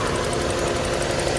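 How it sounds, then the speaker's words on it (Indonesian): A 1993 Toyota Corolla's 1.6-litre four-cylinder 4A-FE engine idles smoothly, a steady, loud, close hum with no variation in rhythm. "Mesinnya masih normal dan halus."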